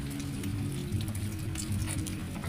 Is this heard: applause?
no